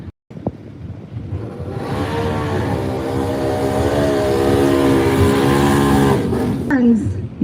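A big-tire race car idles on the start line at a Southern Bounty Series event, its engine rumbling steadily and building slightly in a loud, close drone, with an announcer talking over it.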